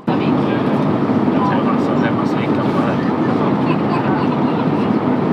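Steady, loud broadband cabin roar inside an SAS Airbus A350-941 landing on a Copenhagen-Stockholm flight, holding an even level throughout with no distinct breaks.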